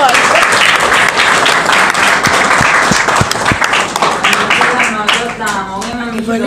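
A dense, loud burst of audience applause that holds steady throughout, with a few sharper claps standing out and a voice emerging near the end.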